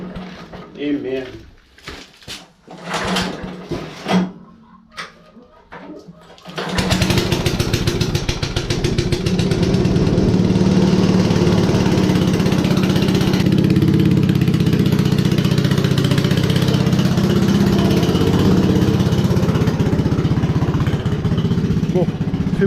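A farm tractor's engine idles steadily and loudly after a couple of failed start attempts in a quiet shed, warming up after a long time standing unused; a voice speaks briefly over it.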